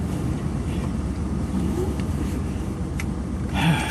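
A car driving slowly down a wooded road in Daingerfield State Park, giving a steady low rumble of engine and tyres with some wind noise throughout.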